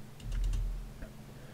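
A short burst of several quick key clicks on a computer keyboard, faint and close, followed by one more isolated tap.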